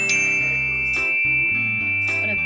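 Metallic chimes ring out in several bright, overlapping strikes, each note shimmering and slowly fading, with a steady high tone sustained throughout.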